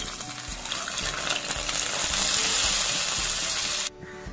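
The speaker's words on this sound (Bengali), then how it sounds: "বাট আমি এই পেঁয়াজগুলোকে ডালের উপরে ঢেলে দিচ্ছি" Fried onions and spices are poured onto masoor dal, giving a loud, steady sizzle and splashing hiss that cuts off abruptly near the end.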